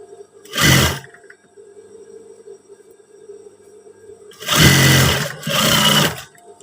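A sewing machine reinforces the stitching on PDL-style trousers with three separate loud bursts, one short run early and two longer runs close together near the end, with quiet pauses between.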